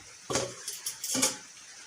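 A metal lid clanks down twice onto a very hot kadhai cooking a homemade veg pizza, short sharp clatters with a brief scrape between them, close and fairly quiet.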